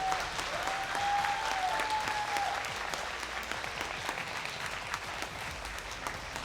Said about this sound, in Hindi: इतनी ज़ोरदार तालियां बजाओ कि अंदर तक आवाज़ जाए